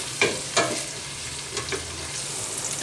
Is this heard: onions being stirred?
yes